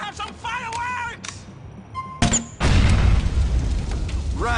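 A loud explosion bang from the motorcycle-gang video game Grand Theft Auto: The Lost and Damned bursts in after brief game chatter, then rumbles on as a heavy, sustained roar of debris and noise.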